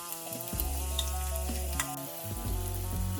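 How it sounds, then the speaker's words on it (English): Onions sizzle in hot white oil with cumin seeds in a pan, a soft steady frying hiss under a music bed with sustained tones, moderately quiet and continuous. "We'll cook the onions for at least 3 to 4 minutes till it starts turning brownish in color"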